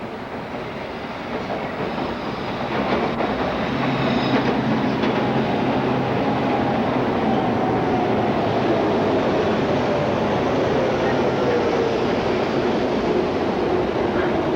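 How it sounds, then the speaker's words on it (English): A subway train rumbles in, growing louder over the first seconds and then holding a steady roar with a faint squeal of wheels. "the subway should be here any minute now"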